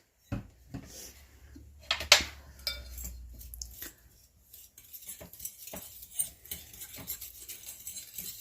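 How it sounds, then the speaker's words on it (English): A utensil stirring bibimbap, a Korean rice dish, in a pan, making irregular scraping clinks and taps against the metal. The rattles come close and fairly quiet, with a low rumble under the first few seconds. "I'm going to go ahead and start stirring that up a bit."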